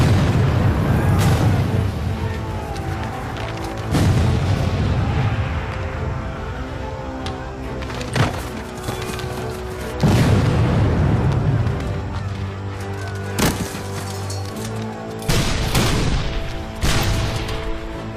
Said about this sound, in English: Joe Davis and his men are marching into a barrage of artillery hell.